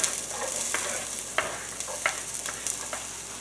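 Onions sizzle and crackle in hot oil in a pan for low-carb meatballs in marinara, a steady close frying hiss broken by sharp pops and stirring scrapes.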